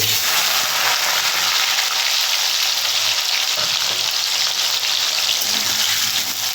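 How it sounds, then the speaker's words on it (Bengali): Potatoes fry in hot oil in a Bengali home kitchen, giving a steady, loud, dense sizzle that holds without a break and has no talking over it. "তেলের মধ্যে আলুটা ভেজে নেব"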